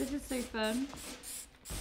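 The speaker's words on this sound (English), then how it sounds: "Spray up the back." A spray bottle spritzes dye onto the back of a tie-dye T-shirt in a few short hissing bursts, with people talking and laughing close by.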